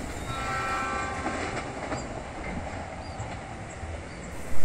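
The Argo Wilis passenger train rumbles steadily past at close range at a small Indonesian station, a broad continuous roar with faint rhythmic rail clatter and a brief horn-like tone near the start.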